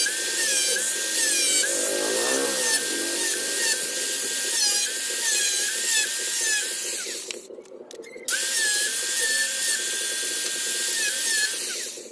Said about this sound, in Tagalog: ito naman yung bubutasan natin